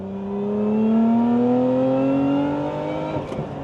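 A Lotus Emira's engine climbs steadily in pitch as it revs hard toward the rev limiter, loud and close, then bounces off the limiter near the end with a brief stutter.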